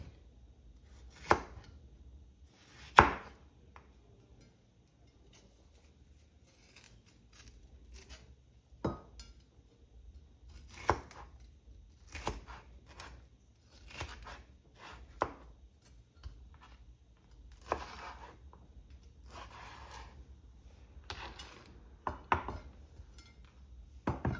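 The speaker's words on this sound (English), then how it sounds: "Just chop again." A knife chopping bread on a board while preparing a Jamaican macaroni salad, with scattered sharp thuds at an irregular pace, some louder than others, close by in a quiet kitchen with faint clinks.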